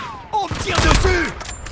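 Gunfire in Call of Duty Warzone lands as a short loud burst of shots while a voice speaks over it, the shots crowding together then trailing off within a couple of seconds.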